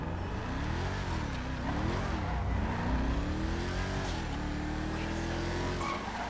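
A sports car engine in GTA Online revs up and down repeatedly, rising and falling in pitch, with tire squeal and a steady loud roar.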